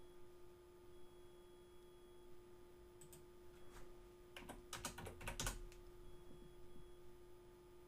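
A zip code is typed on a computer keyboard, a quick burst of soft key clicks in the middle of an otherwise quiet stretch with a faint steady hum under it.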